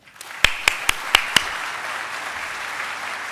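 An audience welcomes a speaker before a presidential address with a handful of sharp, evenly spaced claps that stand out clearly, then fade into a soft, hushed room tone.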